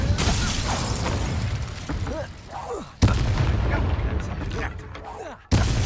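Spell casting in the Hogwarts Legacy video game, with loud booming blasts and crackling magical bursts over constant rumbling battle noise, and a voice shouting spell names.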